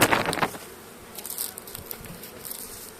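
Caucasian honey bees at their hive after winter, a loud swarm buzz with close fly-bys at the start, then a steady, busy hum of many bees.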